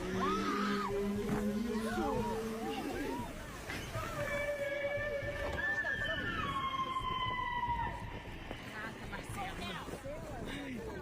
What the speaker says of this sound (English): Just listen to the whale sing as this lady gets up close and personal for a once-in-a-lifetime experience.